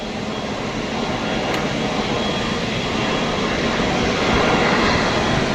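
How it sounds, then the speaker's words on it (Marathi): A Saudia airliner taxiing for takeoff at Mumbai international airport gives a steady, loud broadband jet roar, continuous and unbroken, heard from a hillside viewpoint nearby. "सौदियाचं विमान चाललं टेक ऑफ साठी."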